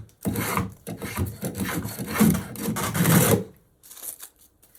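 A slightly tweaked Kunz spokeshave taking heavy shavings from wood, heard as several close rasping strokes over about three seconds, followed by a pause and a shorter final stroke.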